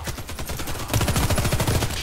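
Rapid automatic gunfire from a Beretta Mx4 Storm in the Warface shooter game, a fast rattling burst of repeated shots that grows louder and denser partway through, with no talking.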